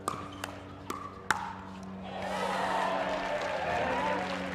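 A crowd applauding a point in a men's or women's doubles match at the Foot Solutions Arizona Grand Slam, steady clapping for a couple of seconds after a few sharp paddle pops, at a moderate distance.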